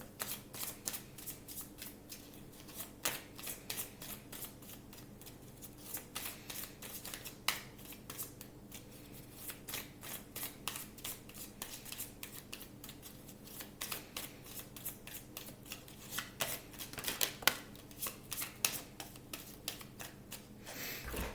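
Tarot cards are shuffled and drawn by hand, giving a long run of quiet, rapid riffling flicks and soft card slaps close by, steady throughout with no talking.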